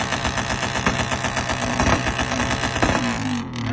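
A small 2024 Rev Next 3 motorbike with a loud aftermarket exhaust pipe revs hard in close, repeated throttle blips with popping, crackling bursts, then the engine note drops and settles near the end.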